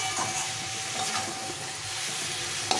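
Cauliflower and potato fry with spices in a pan, a continuous close sizzle with soft scraping stirs recurring through it and a small knock at the end.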